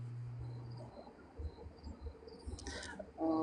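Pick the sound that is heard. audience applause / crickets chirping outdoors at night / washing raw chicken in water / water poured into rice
crickets chirping outdoors at night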